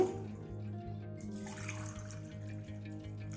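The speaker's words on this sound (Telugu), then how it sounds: "ఇప్పుడు మూడు గలాసులు వాటర్ వేయాలి ఇందులో" Water is poured from a glass into a bowl of rice flour and maida flour for a snack dough, a soft, steady trickle heard close up under a low background hum.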